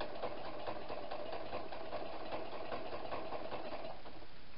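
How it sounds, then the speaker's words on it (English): A sewing machine runs steadily with a continuous mechanical whir and buzz, close by and fairly quiet, without pauses or voices. "And back to the sewing machine."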